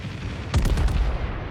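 Naval gunfire from the USS Missouri battleship in World of Warships: a heavy broadband blast around the midpoint, rolling into a low rumbling boom that fades over about a second against steady game ambience.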